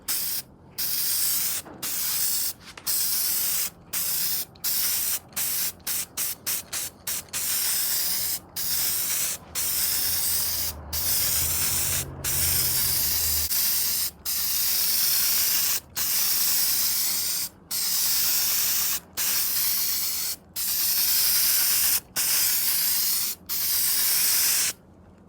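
Appliance epoxy enamel sprays from an aerosol can onto an LED panel for a 1955 Chevy truck, a series of close hissing bursts separated by short pauses, some quick and clustered, others long and steady.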